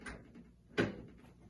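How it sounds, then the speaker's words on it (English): A freeze dryer door swings shut at close range: a soft first contact followed by one firm, short thud, quiet and isolated. "First thing we're going to do is get our door closed here."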